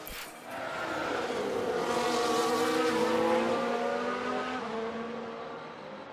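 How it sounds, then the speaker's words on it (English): A race car in the F1 Manager 22 game spinning out, its engine roaring steadily with tyres skidding and squealing, loud and continuous for several seconds, no talk. "What a spin out!"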